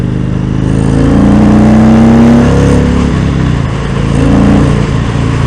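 A 2019 Indian Springfield Dark Horse motorcycle engine revs steadily through its range, a loud, continuous rumble with rising and falling pitch sweeps heard up close.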